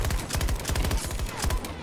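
Rapid automatic bursts from a PKP-8P machine gun in Battlefield 2042, dense repeated reports in quick succession, loud and close, continuing through the whole stretch without talk.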